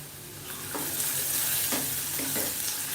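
Garlic frying in a pan for a green peas curry, with a steady sizzle and occasional stirring scrapes repeating through the clip, close up and with no voices.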